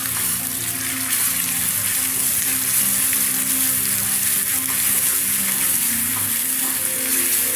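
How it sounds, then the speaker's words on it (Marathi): Onion and coconut paste frying in oil for mutton sukka, a continuous dense sizzle and crackle held close and steady, with a faint watery hiss and no speech. "त्याला तेल सुटेपर्यंत फ्राय करायचं आहे।"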